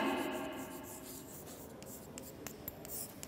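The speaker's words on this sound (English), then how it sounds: "write the address on the right side" A pen or marker writes on a board in an English class, scratching in short strokes with a few light taps toward the end, fairly faint and without talk.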